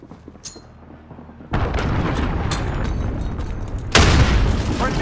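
Cruise missile strike in Call of Duty Modern Warfare multiplayer on the Vacant map: a sudden heavy explosion bursts in after quiet, a rumbling roar sustains, then a second louder blast hits near the end.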